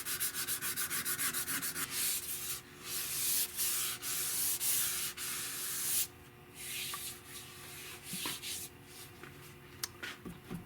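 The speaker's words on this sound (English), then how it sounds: "So there'll be more filing going on." Rasping file strokes shaping the pistol grip of a wooden rifle stock for a Tikka T3, rapid rhythmic scraping close up that slows into slower, more spaced strokes with a few light knocks.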